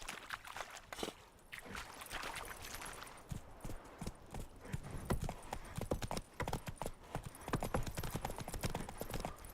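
Hooves of the horse in The Witcher 3 drum steadily as it gallops, a continuous, fairly loud clip-clop rhythm with game ambience underneath.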